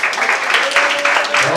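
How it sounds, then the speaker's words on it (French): An audience at a junior cooking competition event claps in a loud, dense burst of applause lasting under two seconds, with a voice faintly mixed in. "Et je vous demanderai d'applaudir spontanément."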